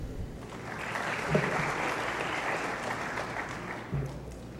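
Applause fills a lecture hall at an administrative law course, a moderate, steady patter of many hands clapping that continues evenly with a couple of louder knocks and no talking.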